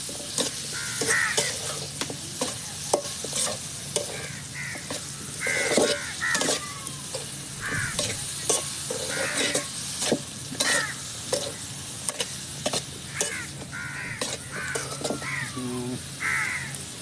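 Palm shoot curry being stirred and fried in a pan, with repeated scraping strokes of a spoon against the metal over a continuous sizzle, while crows caw intermittently in the background.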